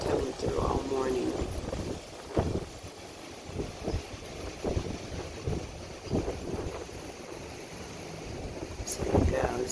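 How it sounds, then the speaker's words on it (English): Gusty Santa Ana winds in California, a steady roaring rush buffeting the microphone with surging gusts, while someone talks over it. "These gusty winds"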